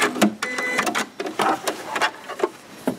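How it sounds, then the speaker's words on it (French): Domestic sewing machine running a zigzag stitch on jersey knit fabric for a cuddly legging, heard in short uneven bursts of clattering needle action with brief pauses between runs, close and moderately loud, no talking. "vous pouvez coudre du jersey avec le point zigzag"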